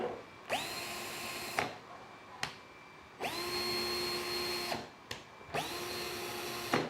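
Cordless drill-driver set to speed 2, the higher drilling speed, runs freely in three bursts of several seconds each. Each burst ramps up quickly to a steady high whine, then cuts off with a click, close and clear.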